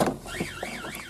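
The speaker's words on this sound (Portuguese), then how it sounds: "Aí soltou o alarme." A car alarm sounds as a car door is opened, a brief warbling siren rising and falling in pitch, moderately close.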